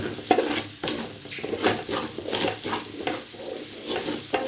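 Rice being fried and stirred in a pan at home before making pulao, a close, loud sizzle broken by repeated rhythmic scrapes of the spoon against the pan.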